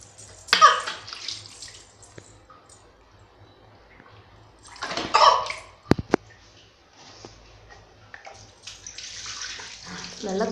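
Water poured over a newborn baby during a bath, coming in a few loud splashing bursts with quieter trickling between them and faint voices in the background.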